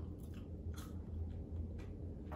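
Thin, crispy carrot fries being bitten and chewed give a few faint, close crunches spaced over a couple of seconds in an otherwise quiet room.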